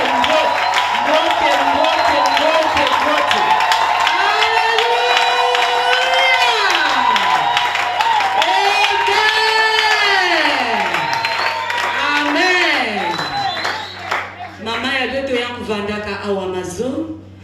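A church congregation gathered for a women's service cheers and acclaims loudly, with whoops, shouts and scattered clapping rising and falling over a held organ-like drone, voices prominent throughout.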